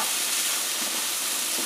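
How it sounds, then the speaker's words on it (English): Carrots stirred into tofu frying in a pan give a steady, close, bright sizzle with soft scraping of the stirring underneath, with no talk. "I stir my carrots in."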